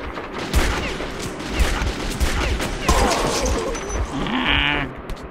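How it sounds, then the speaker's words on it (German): Metro 2033 gunfire in rapid bursts of shots amid loud, busy game sound, several sharp reports spread across the clip with other effects underneath. "Wurde ich jetzt beschossen?"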